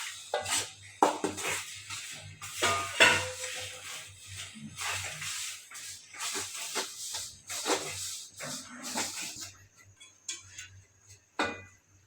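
Roasted flour mixed with egg and sesame oil being stirred in a pan, giving intermittent scraping and shuffling strokes with soft hiss, close by and uneven, with no voices.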